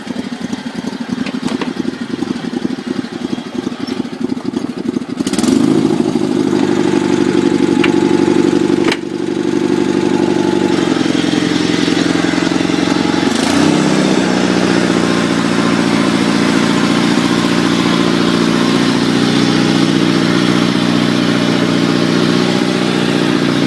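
A Sears SS16 lawn tractor engine runs steadily after a cold start with no choke and no throttle. It is loud and close, with a brief change in pitch and a short hitch partway through, and no one speaks.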